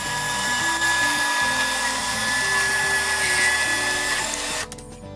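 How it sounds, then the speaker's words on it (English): Portable bandsaw cutting through a stuck bolt embedded in a tree, a steady whining buzz with shifting pitch as the blade bites, stopping abruptly near the end. "Another tool you can use to cut off bolts that are stuck in the tree is a portable bandsaw."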